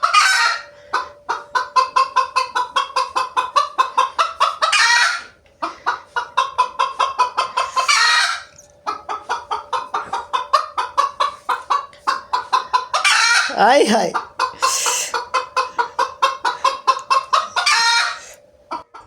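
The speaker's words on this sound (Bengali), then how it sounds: "তো অবশেষে মুরগি ডিম পারছে" A desi hen cackles loudly and insistently while laying an egg, repeated bursts of clucking calls in a steady rhythm with brief pauses, close by, and a short human exclamation near the middle.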